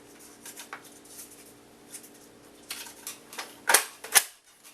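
Brass-tipped cartridges are loaded into a double-barreled steampunk Nerf blaster, a series of light clicks and plastic taps building to two sharp, louder snaps near the end.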